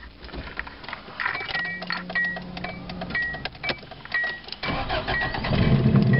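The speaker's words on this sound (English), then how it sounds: "Let's turn it off and see if it starts again." A car's engine, a vehicle nicknamed Scooby that had mice living in it, cranks after being switched off with the clutch held in, with uneven mechanical whirring and clunks before the engine catches and runs louder near the end.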